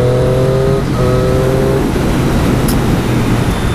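A Triumph 660S motorcycle pulls away in fourth gear, its engine humming loud and close with a steady rising tone buried in heavy wind rush.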